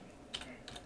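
Keys clacking on a computer keyboard, two short quick clusters of taps a fraction of a second apart, faint and close against a quiet background with no speech.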